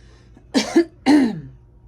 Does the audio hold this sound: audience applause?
no